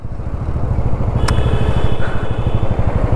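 A motorcycle with a freshly changed battery and fog light rides off on a trip to Khatu Shyam Ji, its engine thrumming loud and steady in rapid low pulses, rising slightly as it pulls away.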